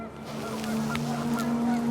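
Geese honk repeatedly over a steady low electronic drone, a flock's calls overlapping at moderate distance, in the video game What Remains of Edith Finch.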